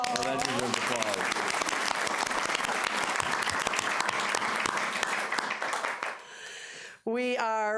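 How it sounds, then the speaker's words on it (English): Sustained audience applause at a city council meeting fills the room for about six seconds, dense and steady with voices cheering over it, then fades, followed by a short spoken voice. "That deserves applause."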